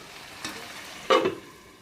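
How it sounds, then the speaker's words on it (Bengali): Chicken curry is stirred in a pan: two brief, soft scraping strokes with a faint sizzle, quiet and close, with no talk. "একটু এটা আবার নাড়াচাড়া দেবো।"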